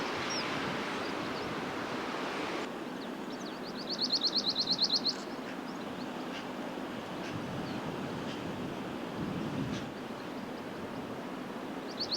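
A bunting sings one short rapid trilling phrase, clear above steady wind and distant surf rumbling throughout, in Devon.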